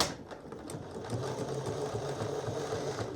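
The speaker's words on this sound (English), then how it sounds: "I'm sewing 1/8 of an inch top stitching from that seam" A sewing machine runs slowly, top stitching an eighth of an inch from a skirt seam through several layers, a soft steady mechanical chatter of needle strokes, fairly close and quiet.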